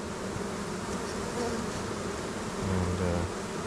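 Honey bees swarm around a hive frame during an almond pollination check, giving a dense continuous buzzing hum close by that thickens near the end, with no speech.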